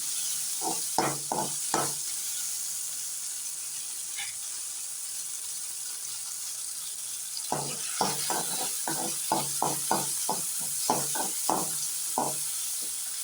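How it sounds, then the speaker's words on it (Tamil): Chopped tomatoes sauté in a pan, a constant sizzle under two bursts of rapid rhythmic utensil taps and scrapes from stirring, one short and one longer, with no voices. "ரெண்டு பழம் தக்காளி கட் பண்ணி வச்சுருக்க அதை சேர்த்துக்கிட்டோம் நல்லா வணக்கி விட்டுக்கலாம்"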